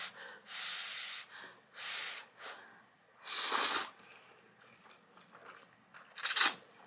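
Close bites and crunchy chewing of spicy nuclear fire noodles, several bursts of crunching and slurping separated by quiet pauses, with sharp breaths and sniffs in between.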